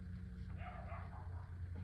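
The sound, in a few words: two small dogs barking outside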